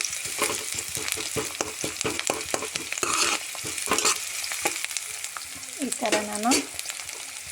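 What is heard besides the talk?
onions frying in a pan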